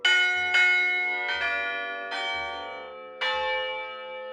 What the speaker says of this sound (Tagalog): Ang bells na ito, hindi katulad ng ordinaryong kampana na iisang tunog lang ang nagagawa dahil set o binubuo ito ng maraming kampana